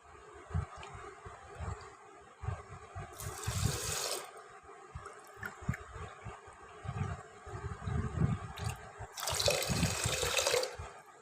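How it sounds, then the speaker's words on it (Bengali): Water poured from a cup into a pressure cooker holding sugar, making rasgulla syrup: two bursts of bright splashing pour, each about a second long, over steady low background rumble with a few faint clinks. "ওই দু কাপ জল দিলাম"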